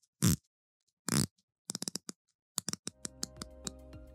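Bezel of a Phoibos Proteus Black Forge Carbon watch turned by hand, giving a string of crisp, close, quiet clicks in uneven bursts after a couple of soft handling rustles.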